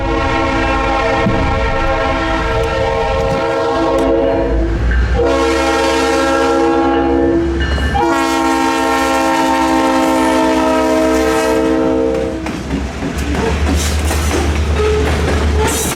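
Freight train at a road crossing blasting a loud chorded horn in several long blows over the rumble and clatter of passing cars, close and powerful throughout.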